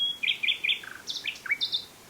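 A nightingale sings in the Sussex countryside, a quick run of bright repeated chirps and whistled phrases followed by rising and falling notes, clear and fairly close against quiet surroundings.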